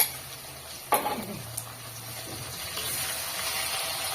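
Fish frying in hot oil in a Bangladeshi village kitchen, a soft steady sizzle after a sharp splash-like crackle as the pieces go in, with a few utensil knocks, fairly quiet.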